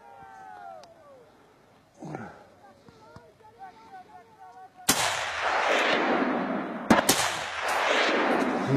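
Gunshots ring out during a wild boar hunt in Turkey: two or three loud, sharp cracks followed by sustained rumbling noise, with excited voices and calls heard before the firing.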